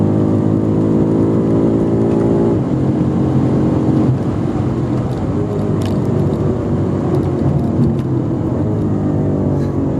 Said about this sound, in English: listen to those downshifts, guys